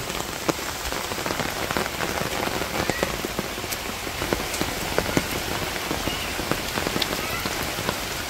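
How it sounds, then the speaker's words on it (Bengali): Steady rain falls over a village, a dense, soft patter of drops striking surfaces with scattered sharper hits, continuous and unbroken throughout. "কত সুন্দর বৃষ্টি হবে।"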